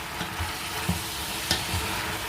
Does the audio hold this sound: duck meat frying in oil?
yes